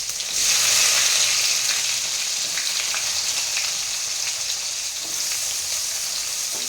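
Onions frying in a pan for fish curry: a bright, loud sizzle starts suddenly and holds steady, softening slightly, with occasional faint stirring clicks.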